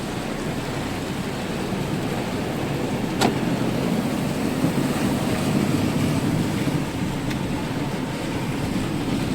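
Heavy rain falling during a windy storm in Junagadh, a dense continuous roar of broadband hiss with low rumble, steady throughout and without talk.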